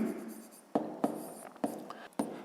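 A pen or pencil writes by hand on paper during a fifth-grade maths exercise, five or six short scratchy strokes in quick uneven succession, close and quiet.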